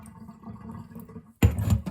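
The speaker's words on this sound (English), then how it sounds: "pour out the vinegar." Vinegar that has sat overnight to clear hard-water scale is poured out. A low steady rumble gives way to a sudden loud gush of liquid, close by and without speech.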